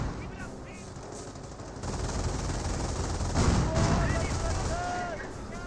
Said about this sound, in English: Pack 38 firing away. Good AT gun hits there.